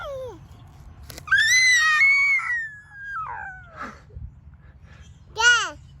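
A small child lets out a long, high-pitched scream, close and loud, followed by babbling sounds and a shorter shriek near the end.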